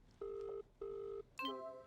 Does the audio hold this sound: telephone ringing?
yes